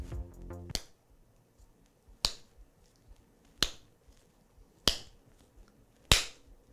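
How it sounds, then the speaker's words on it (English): Five sharp, loud hand claps spaced more than a second apart, aimed at triggering a clap-activated digital clock, each crisp and isolated in a quiet room after a brief burst of other sound at the start. "Oh, okay, so you gotta clap pretty hard."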